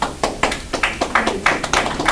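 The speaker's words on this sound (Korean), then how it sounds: "박수 한번 주세요." An audience applauds at the opening ceremony of a forum on filial piety and love, with sharp claps that come in quick, regular bursts about four times a second and stay close and fairly loud throughout.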